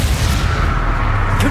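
A Confringo explosive spell blast in the Hogwarts Legacy video game: a dense, loud booming burst with a deep rumbling low end that fills the short moment without a break.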